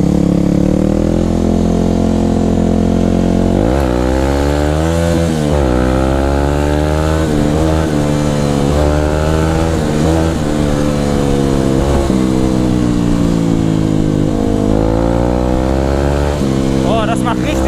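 Enduro motorcycle ridden hard at speed, its engine loud and close, revving up and down through repeated gear changes and throttle blips with a continuous buzzing drone throughout.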